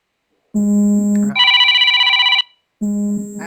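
A telephone rings loudly and close with a bright electronic tone in two pitch-shifting bursts, pauses briefly, then starts ringing again, with no voices over it.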